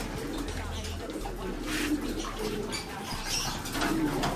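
Pigeons coo softly and intermittently at a feeding session in a loft, with light rustling and wing movement mixed into steady low background noise.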